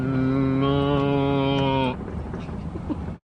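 A cow moos loudly and close, one long drawn-out low call that stops abruptly, followed by quieter farm ambience in rural South Australia.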